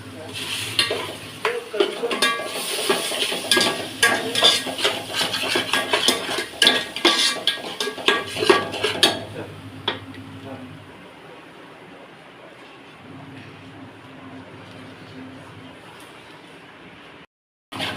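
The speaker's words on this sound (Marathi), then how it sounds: "हे वाटण आता आपल्याला तेलामध्ये चांगलं फ्राय करून घ्यायचं आहे" Ground spice paste frying in hot oil in a pot while a utensil stirs and scrapes against the metal, giving loud rhythmic clatter and sizzle that later settles into a quieter steady sizzle, with someone talking over it.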